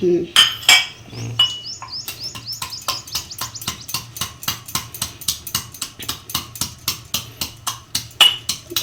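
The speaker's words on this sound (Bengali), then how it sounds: "লংটাও নিয়ে নিলাম, এটা যে এলাচটা, ওগুলো সব, আদাটা, এইগুলো একটু আমি থেতো করে নেব" Cloves, cardamom and ginger being crushed for masala tea, a steady run of sharp pounding knocks repeating close by at a quick, even rhythm, with faint clinking between strikes.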